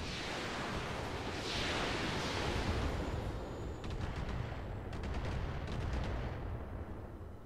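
Thunderbolt launcher fired in the mech video game Roguepoint, heard as a dense, rumbling blast and roar that decays into noisy crackle, with a few sharp rapid clicks, moderately quiet and without speech.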